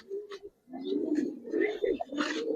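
A Giribaz pigeon, one of a working breeding pair, gives a run of low throaty coos up close, steady and fairly loud with a few brief higher accents and no speech.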